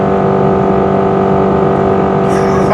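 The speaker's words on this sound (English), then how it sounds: "Oh, that CVT transmission drone." A 2024 Subaru Crosstrek Wilderness with a CVT transmission accelerates in a steady, loud, unchanging drone heard from inside the cabin, its pitch held level throughout.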